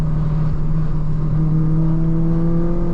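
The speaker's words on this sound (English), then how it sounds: "the way that the engine responds is so crispy and fizzy" A Mitsubishi Evo Tommi Makinen engine hums loud and close with a steady, rising note as it revs, a smooth whirring drone with no talk over it.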